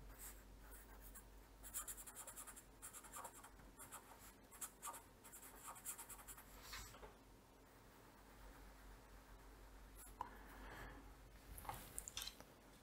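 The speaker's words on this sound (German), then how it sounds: "Schreiben wir die auf. 5 Sicherheitsregeln." Pen strokes scratch across paper as safety rules for working with electricity are written out, a soft quiet run of short scribbling bursts with brief pauses between.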